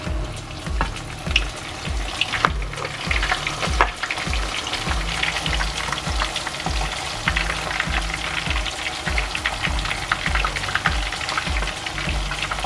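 Shrimp dropped into oil heated to about 180 degrees in a wok for kung pao shrimp balls, frying with a loud, steady crackling sizzle and scattered sharp pops throughout, close by and with no talking.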